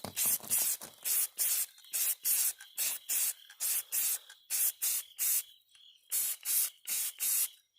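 A Dart Zone Adventure Force Ranger toy blaster being spray painted: about twenty short, loud hissing bursts from an aerosol can, sprayed close up in a quick, uneven rhythm with brief gaps between them.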